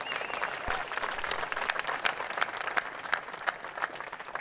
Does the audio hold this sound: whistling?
no